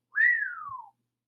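A single drawn-out whistle by a human voice, rising briefly then sliding slowly downward, imitating wind whistling; short and clear with no other sound.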